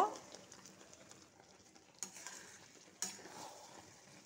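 A spoon stirs plum pickle in a pan after black salt goes in, with soft scraping under a faint sizzle and two sharp utensil knocks against the pan partway through.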